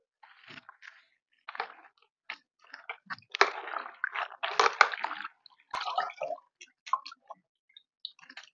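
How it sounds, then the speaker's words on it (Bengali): Whole spinach leaves being washed by hand in a bowl of water, close intermittent splashes, swishes and crinkly rustling in short bursts separated by quiet pauses. "এবার পালং শাকগুলো জলের মধ্যে দিয়ে বেশ ভালো করে ধুয়ে নেব।"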